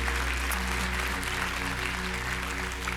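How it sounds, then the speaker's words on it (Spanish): Church congregation applauding in a sustained, dense wash of clapping that holds steady throughout, with a low hum running beneath it. "Vamos a darle un aplauso al Señor"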